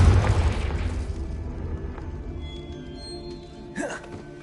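Fiery Confringo spell blast in the video game Hogwarts Legacy: a loud, deep boom that opens the clip and slowly rumbles away, with a brief whooshing sweep near the end.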